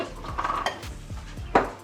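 A spoon works through a thick Nutella mixture for a sponge cake, scraping and knocking against the bowl in a few uneven clinks and rubs, ending with one louder clack, up close with no talk.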